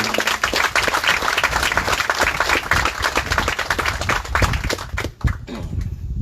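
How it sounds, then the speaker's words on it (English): Loud, dense applause from an outdoor crowd at a 9/11 wreath-laying ceremony at Two Lovers Point, steady clapping for about five seconds before briefly dipping and picking up again. "Please join me in a round of applause for them"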